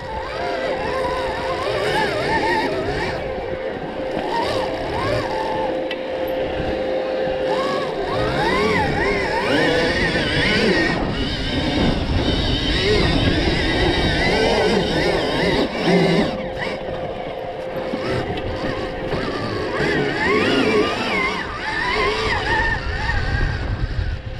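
A car drives with its engine running steadily, a continuous close motor drone with slight revving shifts throughout.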